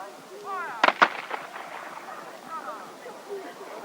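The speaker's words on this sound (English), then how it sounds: "Royalists firing by rank." A Royalist musket volley as soldiers fire by rank in an English Civil War style battle, with a couple of sharp cracks followed by echoing shots over a crowd and drum noise.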